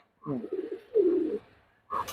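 Pigeons in a pigeon loft give soft, close, throaty coos, a couple of rolling calls with short pauses between them.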